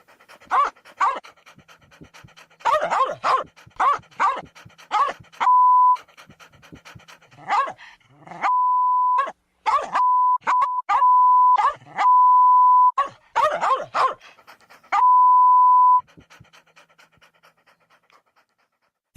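A dog pants close and loud in quick rhythmic bursts, with steady electronic beep tones cutting in between them.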